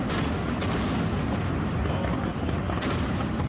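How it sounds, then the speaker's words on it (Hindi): Booms and blasts from petrol bombs thrown at police during a street protest in Athens, dense repeated bangs over a continuous roar of crowd noise, fairly distant and harsh. "लगातार पेट्रोल बम फेंकती रही। इस दौरान बड़े बड़े धमाके"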